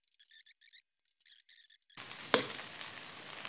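Extra-spicy Indofood chili sauce hits a hot pan of frying nasi goreng with petai and sizzles loudly and steadily, a sudden burst of hissing after a quieter start with soft, choppy sounds.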